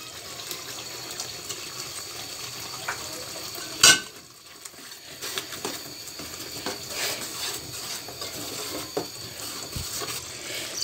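Spice masala with coriander leaves being sautéed in a pan for an eggplant dish, a continuous low sizzle with scattered stirring clinks and one sharp metallic knock partway through.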